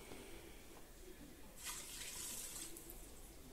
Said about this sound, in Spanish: Le voy a echar el agua aquí a la fiambrera para aprovecharla un poco.